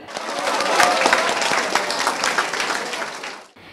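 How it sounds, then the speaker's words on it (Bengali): An audience at a school function claps loudly for a student being honored at a prize announcement, a dense burst of applause lasting about three seconds before cutting off abruptly. "ওর জন্য হবে জোরে একটা হাততালি।"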